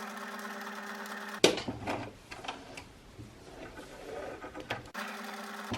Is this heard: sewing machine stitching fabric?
yes